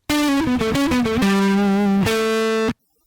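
Sustained tones run through a distortion effect in Cool Edit Pro audio software, sounding harsh and buzzy with dense, gritty overtones and stepping notes for about two and a half seconds, then cutting off into silence.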